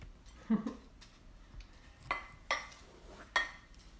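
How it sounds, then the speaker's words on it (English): Dry baking ingredients, including cinnamon and ginger, being mixed in a bowl, heard as a few sharp clinks and taps of a utensil against the dish, spaced irregularly over four quiet seconds. "So we'll mix all of these dry ingredients first"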